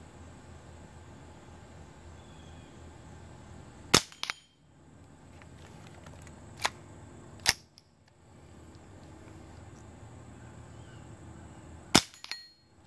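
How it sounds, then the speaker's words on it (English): Quiet Aguila .22 Super Colibri rounds fired from an M&P 15-22 rifle in a backyard, a few sharp faint pops spaced seconds apart, with a small ring of a steel target after shots, over low outdoor background noise. "You can hear how quiet it is out of this M&P 1522."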